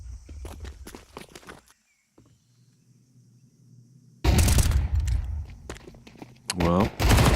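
Desert Eagle pistol fire in a Counter-Strike match, heard as sharp shots and footsteps at the start and a loud burst of rapid, overlapping gunfire near the end, with a commentator's voice in between.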